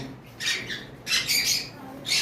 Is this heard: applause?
no